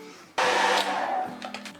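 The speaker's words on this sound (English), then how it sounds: "and then hit that with a hairdryer." A hairdryer switches on abruptly and blows steadily for over a second to dry fresh watercolor paint on a misty seascape, close and fairly loud, then dips as it is moved.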